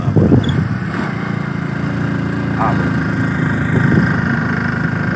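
Motorbike engine droning steadily while climbing the Anuskura ghat road, a continuous mid-pitched hum with slight rises, close to the rider, with a brief spoken word at the start.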